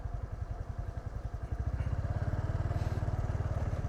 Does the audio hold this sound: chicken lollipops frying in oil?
no